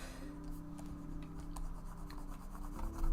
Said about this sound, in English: my microphone picks up the typing pretty loud